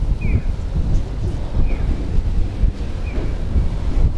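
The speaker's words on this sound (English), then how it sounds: "First of all, it's very windy" Strong wind buffets a microphone on a city street in the business district of Sapporo in winter, a loud continuous roar with gusting rumble and faint traffic beneath.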